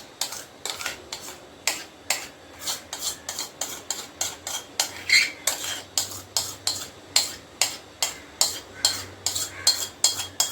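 Leftover eggless biscuit cake batter being spread in a pan with a utensil, a steady run of close scraping strokes, roughly two each second, with no talking.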